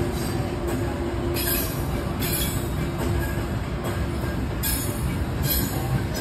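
Steady rumble of a moving TrenItalia train carriage between Rome and Umbria, with continuous rolling wheel noise and periodic high squeals, no voices.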